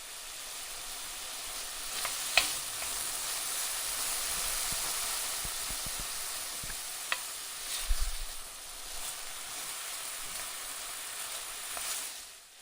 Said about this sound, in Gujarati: ગેસ ઉપર કડાઈ મૂકી એક ચમચી તેલ એડ કરીશું તેલ ગરમ થાય એટલે અડધી ચમચી રાઈ